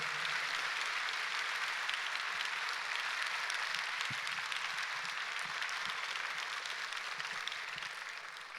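Church congregation applauding to welcome a visiting pastor at a Sunday service, steady dense clapping that holds evenly throughout at a moderate distance.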